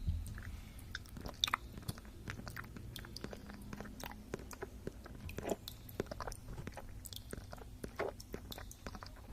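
ASMR chewing and biting noises imitating eating, close and quiet, with soft wet crunches and mouth clicks in an irregular rhythm, no talk.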